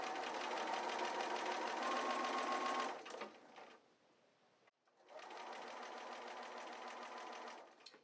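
A sewing machine stitches binding onto a scalloped quilt border with a steady, close whirring hum, running in two long bursts separated by a brief slow-down and pause.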